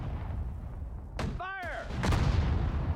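Artillery fire in the World War II strategy game Sudden Strike 4: sharp booming gun reports crack over a low battlefield rumble, with a short in-game voice callout between the blasts.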